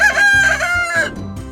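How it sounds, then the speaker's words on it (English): A rooster crows once, close and loud: a harsh cock-a-doodle-doo that rises, holds and then trails off over about a second and a half. "Rooster crows."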